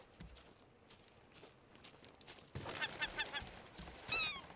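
A bird squawks several times in the Raft survival video game, a run of sharp honking calls close up over steady game ambience in the second half, ending with one louder call.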